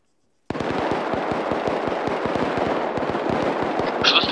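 Rapid gunfire in the video game Arma 3, a dense run of sharp cracking shots after a brief silence, fired in quick irregular bursts that sound close and loud, with no talking.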